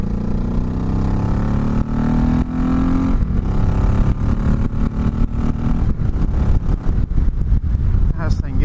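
A 2004 Honda Sabre 1100 motorcycle pulls away under acceleration, its engine note rising in pitch across several gear stretches, loud and close, with wind roar building and a voice talking over it.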